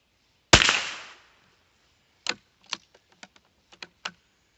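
A Savage Mk2 .22lr bolt-action rifle firing at a range: one sharp close crack with a short decay, then a run of small clicks and taps from handling the bolt, with no voices.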